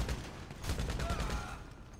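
Heavy automatic gunfire in GTA 5 Online crackles as a dense, continuous fusillade of rapid shots for about two seconds, loud and close, with a faint whine running underneath.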